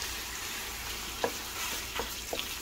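Ground beef for picadillo fries in a little oil in a pan, a steady close sizzle with a few soft scraping stirs.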